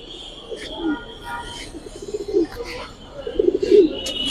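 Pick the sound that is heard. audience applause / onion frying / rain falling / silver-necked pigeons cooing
silver-necked pigeons cooing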